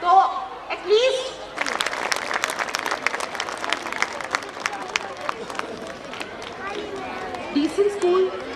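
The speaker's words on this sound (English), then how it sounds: "But I think the play needs loud clapping" An audience at a school annual day claps loudly and steadily for several seconds. Scattered voices and chatter come before it and under it, and the applause thins toward the end.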